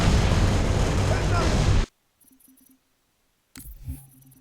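Muffled gunfire and explosions from the PC version of Halo Reach form a dense, continuous roar for under two seconds, cut off abruptly into near silence, and then a voice speaks briefly.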